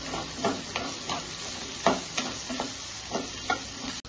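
Vegetable curry of eggplant, potato and tomato with ginger-garlic paste stirred in a pan: a steady low sizzle broken by about eight scraping strokes of a spoon, close and moderately loud, no voices.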